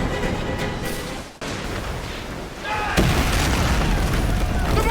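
Ship cannons in Assassin's Creed Black Flag fire in heavy, continuous booming under battle noise, with a brief lull and then a louder, denser barrage. Voices shout in the background.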